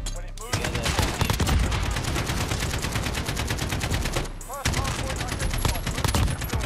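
Rapid gunfire from the video game Modern Warfare, with a Juggernaut on the Khandor Hideout map, loud dense bursts running almost without a break apart from two short pauses.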